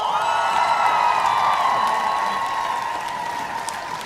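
Crowd at an awards and scholarship ceremony bursts into loud, sustained applause with cheering and whoops, a dense wash of clapping and shouts that carries through and eases off slightly toward the end.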